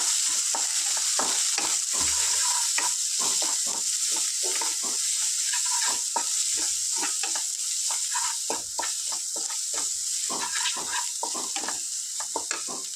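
Ginger garlic paste frying in a pan for a mutton liver curry, a loud continuous sizzle with repeated scraping stirs throughout, no voices.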